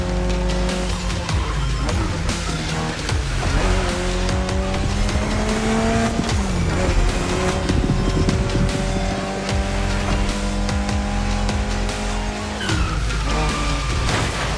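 A Mitsubishi Lancer Evolution X races in The Crew Motorfest with a loud, continuous engine whose pitch climbs and drops through gear shifts, with tire squeal and game music mixed in.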